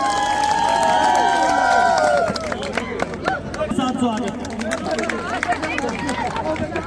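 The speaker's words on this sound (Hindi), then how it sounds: "जोरदार तालियों के साथ स्वागत।" A village crowd welcomes a BJP candidate at a rural political event with applause and cheering. Loud, busy clapping and hubbub run throughout, with a voice over a loudspeaker near the start.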